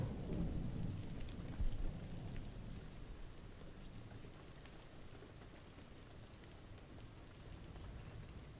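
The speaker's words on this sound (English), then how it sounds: "I think the storm should be passing through now." Steady rain pours down with a low rumble of thunder early on, the storm fading into a continuous wash of rainfall.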